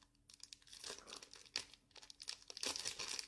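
Plastic wrapping on a package crinkles and tears as it is opened by hand, with irregular rustling bursts and a sharper rip near the middle, close and fairly quiet.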